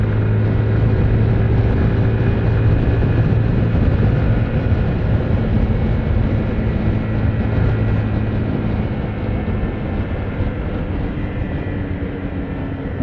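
A VW Golf engine drones steadily with a broad low rumble and faint whine as the car's tires are warmed up, loud and continuous throughout with no talking.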